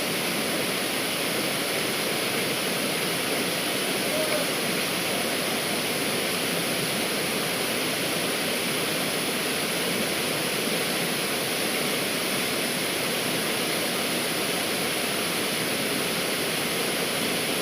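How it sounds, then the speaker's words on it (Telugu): A waterfall at Kothapalli roars in a dense, constant wash of noise, loud and steady with no variation or voices over it. "ఈ జలపాతం చూడడానికి అయితే శివ గారు వచ్చారు"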